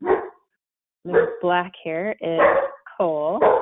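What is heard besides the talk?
dog barking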